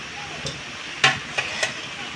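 Spices with homemade ginger powder are stirred in a pan as soft frying hiss, broken by a few brief scrapes and taps of a spoon against the pan.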